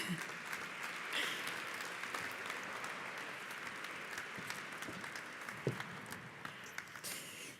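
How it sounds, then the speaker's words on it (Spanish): Audience at a 30th anniversary event of the Instituto Aragonés de la Mujer applauds three women guests, steady dense clapping from a sizeable crowd heard at a distance and fairly faint throughout. "Os voy a pedir un aplauso porque están un poco nerviosas."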